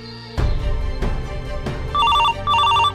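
A telephone rings in two electronic trilling bursts after a few dull thumps, fairly close and loud.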